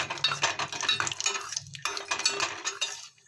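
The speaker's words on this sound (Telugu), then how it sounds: "వేసి బాగా వేయించుకుంటున్నాను కలుపుకుంటూనే ఉండండి" A spoon scrapes and clinks steadily in a metal pan as coconut pieces and cashews fry for a Karnataka-style sago and moong dal payasam, with rapid metallic stirring and a short pause partway through.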